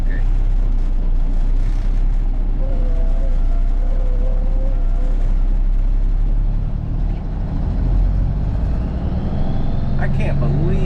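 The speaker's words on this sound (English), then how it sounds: "I can't believe how good this thing sounds motor-wise" An old truck owned for decades idles with a steady low engine rumble, loud and close, with some faint higher tones on top.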